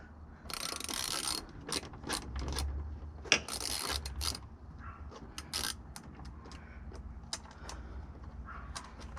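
Bolts are hand tightened while a light bar is fitted to a Bronco, making soft close ratcheting clicks and metal scraping in irregular bursts, fairly quiet, with no talk.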